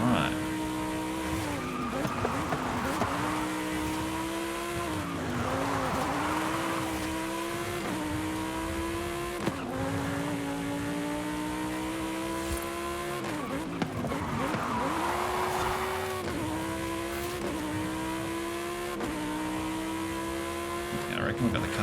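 A race car in Forza Horizon 5 screams through repeated gear-laden acceleration runs, its engine pitch climbing and dropping in cycles while tires squeal through corners, with a voice talking over the action.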